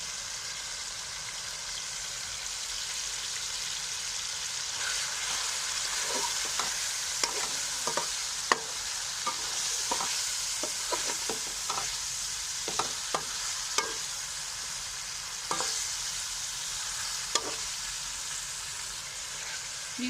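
Chicken sizzles steadily in a pan with red chili powder, turmeric and mixed spices as a spoon stirs it, giving irregular scraping clicks over a continuous frying hiss.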